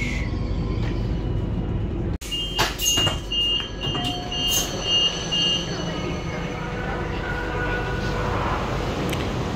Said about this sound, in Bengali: এ হচ্ছে এই ট্রেনের প্রথম যাত্রা বিরতি। তো এখানে 3 মিনিটের জন্য ট্রেন বিরতি দিয়েছে।